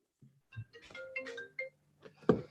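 A phone ringtone plays indoors, a short series of bright melodic tones with a few louder pulses, moderately close and with no speech over it.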